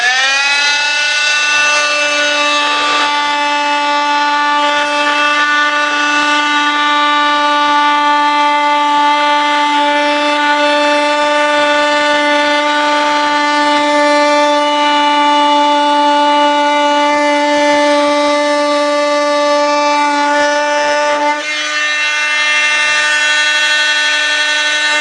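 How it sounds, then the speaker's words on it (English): An oscillating multi-tool cuts through LifeProof vinyl plank flooring, giving a loud, steady high-pitched whine that holds for about twenty seconds and dips briefly near the end. "I'm going to be using my oscillating tool that I use so often for multiple things."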